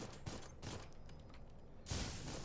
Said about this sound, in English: He fires several more rockets than the other guys do.